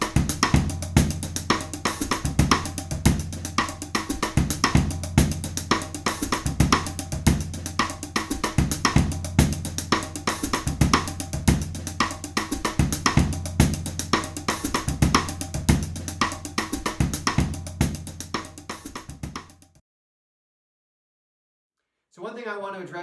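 A drum groove plays steadily with dry cross-stick clicks and ticking hi-hat, continuous for most of the passage before stopping abruptly.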